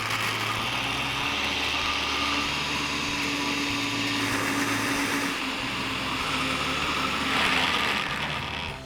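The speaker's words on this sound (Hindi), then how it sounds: "और इसे अब हम ग्राइंड करेंगे" Blender grinding garlic dip with ice cubes, a continuous whirring motor roar with shifting pitch and rattling grind, building louder near the end before stopping, no voices.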